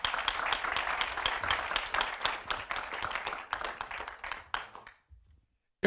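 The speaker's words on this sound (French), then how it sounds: "merci David, on peut l'applaudir" Audience applause at a conference on advertising's environmental impact: dense, close clapping from a modest crowd that thins out and stops near the end.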